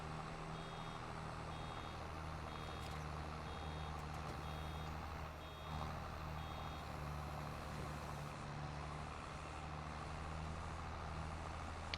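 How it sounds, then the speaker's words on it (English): Repeated reversing beeps from a truck in a farming video game, steady and evenly spaced over a continuous low engine drone, with no talk. "Why is he beeping?"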